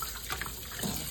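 Running tap water splashes over a whole raw chicken in a sink, a short, steady gush with small shifts as the bird is moved under the stream.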